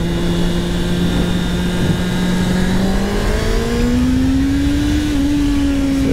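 A Honda CBR 650 R sport motorcycle revs hard in second gear, its loud, steady engine note climbing in pitch under continuous wind roar.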